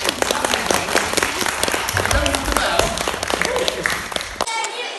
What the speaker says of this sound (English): Give Isabel a big round of applause.